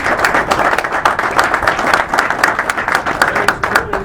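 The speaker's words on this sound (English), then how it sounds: "let's give a big round of applause" A round of applause from a wildlife coalition meeting audience, dense clapping heard nearby and held at a fairly even level for several seconds, with no talking over it.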